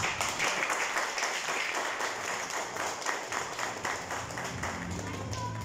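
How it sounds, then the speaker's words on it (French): A church congregation claps throughout, steady dense applause with a rhythmic pulse, mixed with voices and some music in the background. "on va parler de l'église capable d'applaudir à la gloire de Dieu"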